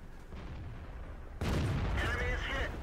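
A tank cannon shot in World of Tanks lands as a sudden heavy boom midway, followed by a rumbling, ringing tail over a low background, with no speech.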